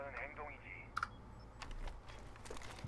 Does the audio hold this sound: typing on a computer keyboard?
yes